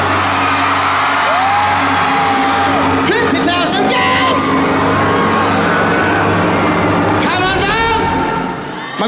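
A large crowd in a coliseum shouts and whoops loudly and continuously, with shrill whistle-like calls rising out of the roar in two clear surges.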